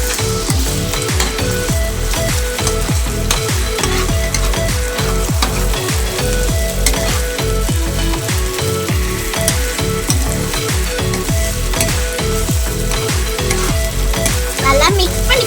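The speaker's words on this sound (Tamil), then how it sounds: "கடாய் வச்சு ஃபஸ்ட்டு எண்ணெய் ஊற்றி வெங்காயம் போட்டிருக்கேன்" Onions frying in oil in a kadai, a loud, steady crackling sizzle close by, punctuated by repeated rhythmic stirring scrapes of a ladle, with no one speaking.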